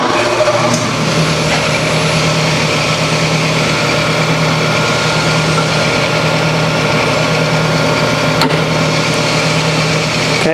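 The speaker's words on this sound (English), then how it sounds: "So, grinding the valve face." A valve grinding machine resurfaces the valve face from a GM 5.3 engine, producing a loud, continuous motor hum with a steady tonal drone and faint grinding texture, with a couple of brief ticks.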